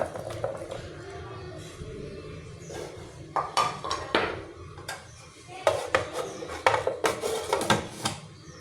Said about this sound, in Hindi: इस वक्त मैं प्याज को चॉप कर रही हूँ।